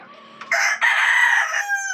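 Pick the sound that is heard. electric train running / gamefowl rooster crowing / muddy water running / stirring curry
gamefowl rooster crowing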